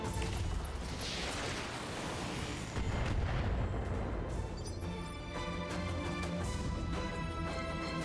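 Mech weapons firing in the video game Battletech, heavy booming artillery-like blasts and explosions in dense succession, loud throughout, with no talking.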